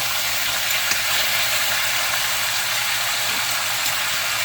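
Kalbi beef short ribs fry in a pan with a dense, steady sizzle that stays close and loud for the whole stretch, no voices over it.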